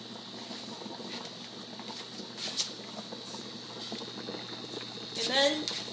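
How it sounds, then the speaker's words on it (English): A pot of water bubbles on a home stove while tilapia is being cooked, a soft steady simmer with faint patter and light background noise throughout. "You can see the water's bubbling"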